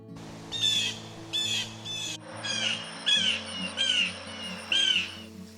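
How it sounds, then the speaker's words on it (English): A blue jay calls from up in the trees along a forest trail, repeating harsh, ringing notes in clusters of two or three, fairly near and clear over a low background drone. "There's a blue jay up there."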